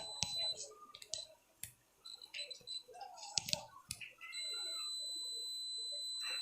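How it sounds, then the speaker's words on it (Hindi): Short clicks and handling noise, then a steady high electronic beep from a digital multimeter's continuity buzzer that switches on and holds continuously to the end. "इस तरह से ये इसमें सायरन बजेगा बजर का"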